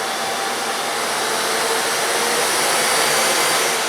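A Miele S4780 cylinder vacuum cleaner runs with a loud, steady roar and whoosh that holds constant throughout, with no talking.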